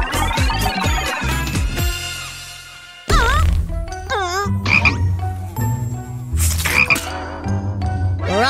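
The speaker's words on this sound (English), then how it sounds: "This is the mouth of a frog." A frog croaks loudly and repeatedly in a cartoon setting, with rhythmic bursts layered over playful music and sound effects, loud throughout.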